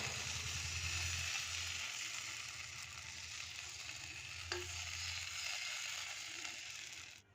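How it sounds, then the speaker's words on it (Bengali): Patisapta batter sizzling in an oiled frying pan, a soft, even hiss with a low background hum running continuously throughout, faint and close, with no talking. "ফ্রাইং প্যানে তেল দিয়ে দিয়েছি,"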